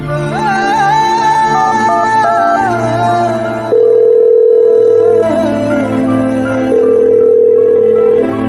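A telephone line gives off steady, loud electronic tones as a call is placed, in two long flat stretches heard over background music.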